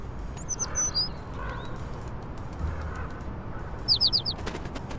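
Small bird chirps in the Little Kitty, Big City video game: a few short bright tweets early, then a quick clear burst of chirps near the end, over a steady low ambient hum.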